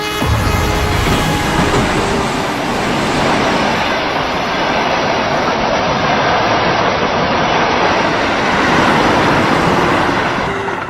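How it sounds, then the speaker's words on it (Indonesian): A train passes along the rails by a station, a loud, continuous rumble with a rattling clatter that holds steady for about eleven seconds, with no voices over it. "Awas, ada kereta api"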